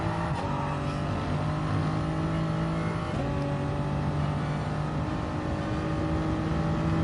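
A Toyota Supra runs a racing lap of Sardegna Track B in a racing video game, its engine droning steadily at high revs with gear-change dips and rising pitch, loud and continuous with no talk.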